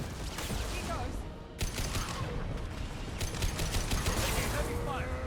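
Heavy gunfire from the video game Mass Effect 2, with dense rapid bursts of shots crackling over a low rumbling game backdrop and continuing steadily throughout.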